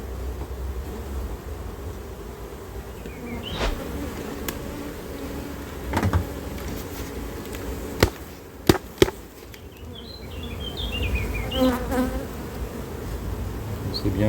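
Honeybees at an opened beehive give off a steady, dense buzz that continues throughout, with occasional sharp clicks and knocks of hive handling.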